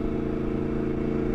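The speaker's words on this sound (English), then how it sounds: "the only negative is the exhaust in my eyes at the moment. That is so loud." A first-generation Yamaha MT-10 motorcycle with a loud, non-road exhaust, idling in a deep, steady, throbbing rumble, close and loud with no talk.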